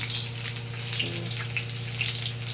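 Pieces of ridge gourd fry in hot oil with a steady, close sizzle and crackle, a continuous hiss with a low hum underneath and no talking.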